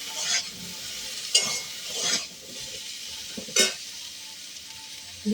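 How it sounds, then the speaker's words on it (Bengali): Ground coriander-cumin spices stirred and scraped in a hot frying pan for a Bengali dry drumstick chorchori, a steady sizzle broken by four distinct spatula strokes spaced about a second apart, close and without any speech. "ধনে জিরে গুঁড়ো দিয়ে আমি মিশিয়ে নিই।"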